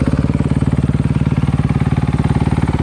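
A 2018 Honda CRF250R dirt bike engine running just after starting, a loud, close, rapid, evenly pulsing single-cylinder putter that holds steady throughout.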